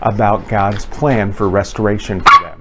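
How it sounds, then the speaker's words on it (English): A dog barks once, briefly and sharply, near the end, partly under a man's steady continuous speech. "sorry about that, that was my dog."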